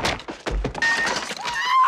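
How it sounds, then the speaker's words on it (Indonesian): A jumble of heavy thuds and knocks followed by clattering, breaking debris, loud and close, like something tumbling and smashing. "Mereka terjatuh dari tangga dan tubuh mereka pecah layaknya boneka manekuin atau boneka pajangan."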